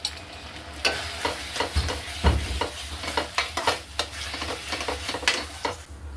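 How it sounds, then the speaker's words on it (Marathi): Sugar stirred into puran, a sweet lentil filling, in a pan: a rhythmic run of scraping spoon strokes over a soft sizzle, close and moderately loud, with no talk. "आता साखर या पुरणामध्ये पूर्णपणे व्यवस्थित मिक्स करून घेऊ।"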